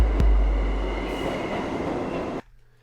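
A train rolls steadily over rails, recorded for sound design, with a loud low rumble and a sharp thump early on. The noise holds to the end, then cuts off to near silence.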